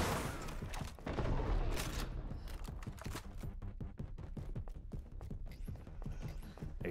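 Gunfire in the video game Resident Evil RE:Verse: a heavy opening burst followed by rapid, evenly spaced sharp shots, close and loud, with no talking.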